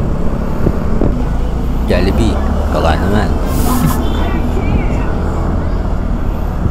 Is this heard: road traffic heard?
yes